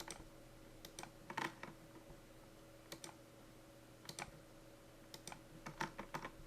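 A computer mouse clicks quietly while sprinklers are linked to pipes in fire protection design software, the light clicks coming singly and in quick pairs at uneven intervals over a faint steady hum.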